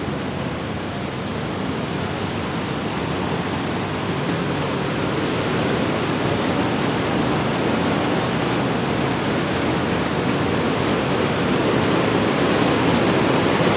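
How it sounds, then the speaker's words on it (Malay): Irrigation water rushes steadily through a flood-damaged canal in Bireuen, Aceh, a loud, dense, unbroken roar of flowing water close by, with no voices. "Air irigasi ini akan masuk ke sini sampai ke Matang Lempang Luar."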